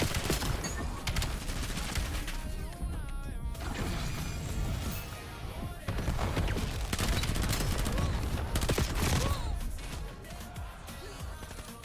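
Gunfire in Call of Duty comes as dense, rapid bursts of automatic shots, loud and continuous through most of the stretch with brief lulls, mixed with game effects and occasional talk.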